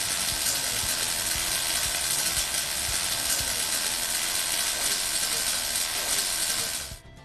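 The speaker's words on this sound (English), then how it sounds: "the arc becomes unstable and it sounds like this." Unstable CO2 welding arc from too slow a travel speed with the wire set too far back in the puddle: a loud, steady crackling sizzle that runs without a break for about seven seconds, then cuts off abruptly.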